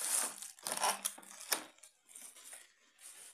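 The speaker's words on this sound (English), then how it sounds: "So I just take that plastic out" Plastic wrapping being pulled off a Dell KB212 USB keyboard, a series of close crinkling and tearing rustles in uneven bursts with short pauses.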